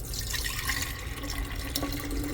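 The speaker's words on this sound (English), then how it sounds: "I had so much in the cup, I had to pour some of it off." Vegetable juice poured off from an overfilled cup beside a Ninja cold press juicer, a steady close trickle and splash of liquid with no talking.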